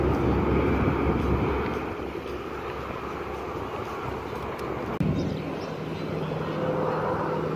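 A heavy jet airliner passing overhead at Castle Island, its broad engine roar steady and loud, fading a little then swelling again as it goes by, with no one talking.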